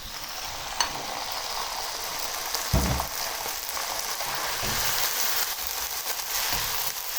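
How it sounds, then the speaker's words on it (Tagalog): Chicken sautéing in a pan for pakbet, a steady close sizzle with a few clanks and stirring scrapes, no voices. "Lagay natin yung chicken para maigisa."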